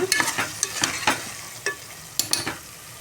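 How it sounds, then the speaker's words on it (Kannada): Mixed vegetables, including carrots, beans and potatoes, are fried and stirred in a pan for mint pulao, giving a soft background sizzle under repeated sharp scraping and clacking stirring strokes, close and irregular, with no talking. "ಹಾಕಿ ಚೆನ್ನಾಗಿ ಫ್ರೈ ಮಾಡ್ಕೊಳ್ಳೋಣ"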